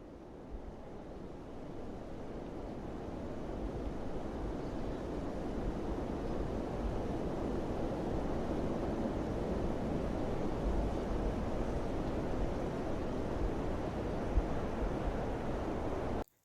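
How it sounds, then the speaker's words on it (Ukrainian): Steady, broad whooshing wind blows for the whole stretch, a constant roar with no voices, like gusts rushing across an open space. "я пропоную вам послухати шум вітру"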